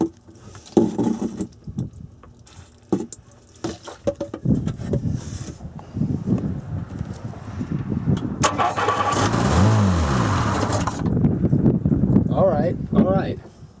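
Sea-Doo personal watercraft engine, a motor that had been full of water, sputters to life after gas is dribbled into the intake port, then revs loudly for a few seconds amid wind noise, with a voice exclaiming nearby.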